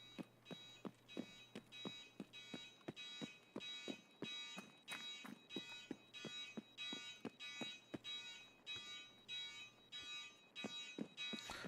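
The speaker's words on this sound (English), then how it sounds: "Let's switch this alarm off" An alarm rings inside the KIBA firearms store in a video game, sending out a steady run of sharp, evenly spaced electronic pulses over a low constant hum. It is fairly faint and carries on without pause.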